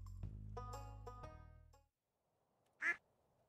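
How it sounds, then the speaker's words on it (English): A single short duck quack from the Stardew Valley farming game rings out alone after a stretch of sustained game music fades to near silence. "I'm not naming this duck Mabo"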